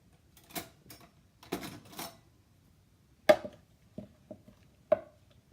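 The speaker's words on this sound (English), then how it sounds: "Now we are going to mix everything together." Garlic knot dough ingredients with sugar and olive oil being mixed in a bowl: a handful of sharp, separate knocks and taps, close and fairly faint, with quiet gaps between them.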